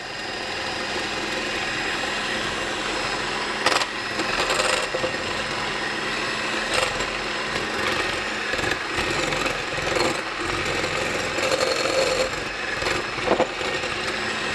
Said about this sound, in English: I'm going to start beating these. And put your mixer on high.